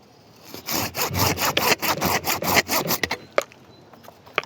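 A hand saw rasps through a mature apple tree branch in quick, rhythmic back-and-forth strokes, close up, then slows to a few scattered scrapes.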